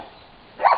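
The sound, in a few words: dog barking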